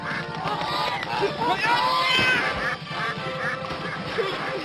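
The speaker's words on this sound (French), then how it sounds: "J'ai dit un canard." A cartoon duck quacks in a busy, layered mix with other voices and sounds, its calls rising and falling over a few seconds rather than standing alone.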